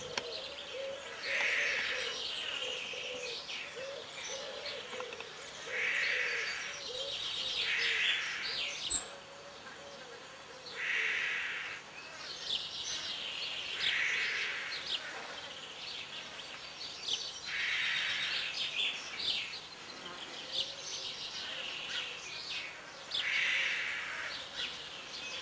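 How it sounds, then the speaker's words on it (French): A hoopoe's low, hoarse call repeats in short bursts every few seconds over a soft background of rustling and other faint birdsong. "Le cri ordinaire que pousse la huppe en s'envolant, ou pour marquer son inquiétude, bas et rauque"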